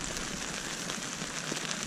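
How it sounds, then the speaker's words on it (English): Steady rain drums on a Vango Helium tent during a wild camping trip on the South West Coast Path, producing a dense, even hiss with no voices. "it's been raining for a couple of hours and there's a great big puddle of water at the bottom of my tent"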